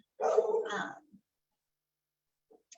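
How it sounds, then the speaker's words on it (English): One short, fairly loud bark-like burst from a dog sounds indoors, then near silence with a couple of faint ticks. "please excuse my dog in the background."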